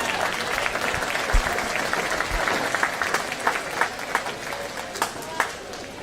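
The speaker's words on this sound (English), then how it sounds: "Give everybody a round of applause for a job well done" Crowd at a junior livestock show awards applauding the placings, a broad rattle of many hands with louder individual claps punctuating the later seconds, steady and fairly close.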